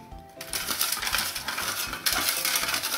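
Paper entries or cards for a giveaway draw are shuffled and mixed by hand, giving a dense, continuous rustling and clattering that starts abruptly and runs close and steady, with no speech.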